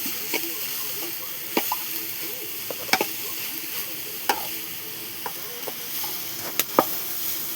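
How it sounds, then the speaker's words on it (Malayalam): Small onions sautéing with jackfruit for a thoran in a pan: a soft continuous sizzle broken by irregular sharp clicks and scrapes of a spoon stirring against the pan, close by, with no talk. "നമുക്കിനി ഉള്ളി ഇതും കൂടെ നല്ലോണം അങ്ങോട്ട് വാട്ടി, ഉള്ളി ഇതിൻ്റെ കൂടെ ഇട്ടോണ്ടേ ഉള്ളി ഒന്ന് ചെറിയൊരു വേവാവുന്നവരെ ഇളക്കാം"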